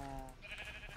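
Sheep bleat in a modded Minecraft survival game, a short wavering animal call heard alone at moderate loudness.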